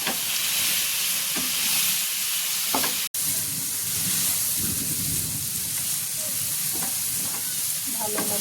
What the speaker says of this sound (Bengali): এর ভিতরে তেল দিয়ে এবার এর মধ্যে আমি এই যে মাছের মাথাগুলো দিয়ে একটু কষায় নেব ভালো করে।